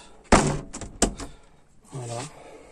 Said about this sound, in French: Les tests de la porte.